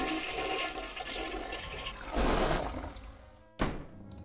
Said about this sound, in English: we have to flush the toilet again!